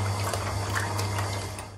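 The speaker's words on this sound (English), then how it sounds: "Now using a hand mixer or a stand mixer, we're going to beat this up until it's nice and smooth." A hand mixer whirs steadily at close range, beating cream cheese and evaporated milk for a chocolate flan, a constant motor hum with wet churning from the bowl.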